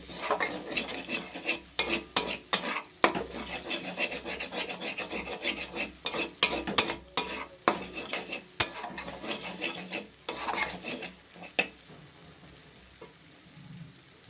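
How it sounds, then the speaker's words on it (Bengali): A spatula stirs and scrapes spice paste with chilli powder as it fries in a pan, making frequent rasping strokes over a faint sizzle, then slowing to quiet near the end. "আরও আমি 1 মিনিট মতো এটাকে নাড়াচাড়া করব।"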